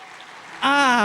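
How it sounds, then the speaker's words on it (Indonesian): A sudden burst of church congregation clapping starts after a quiet moment and continues steadily, loud and close. "kita berikan tepukan yang terbaik bagi Tuhan"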